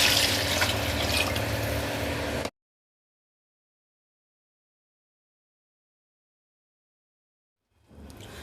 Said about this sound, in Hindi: मैं इसमें इस टाइम टोटल 3 लीटर पानी डाल रही हूँ